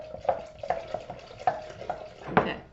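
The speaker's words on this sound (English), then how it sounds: "I'm going to add my 2 cups of scalded milk, and I'm going to stir this as I pour it in" A spoon stirs banana cream pie filling as scalded milk is poured in, giving a series of soft, irregular scraping and sloshing strokes with small clinks, moderately close and without talk.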